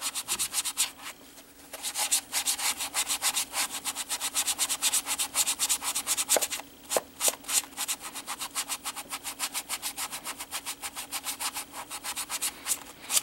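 Rapid, rhythmic scratchy rubbing strokes repeat close up, like fine sandpaper worked back and forth over a small polymer clay figure, with brief pauses between bursts.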